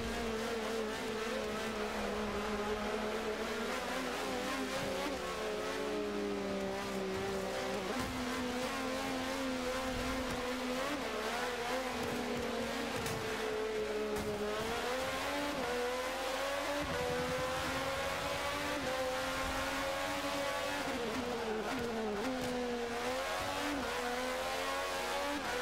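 Race car in a UTR Sebring race accelerating at full throttle, a loud continuous engine drone rising and falling in pitch through gear changes, with brief tire noise, heard close for the whole stretch.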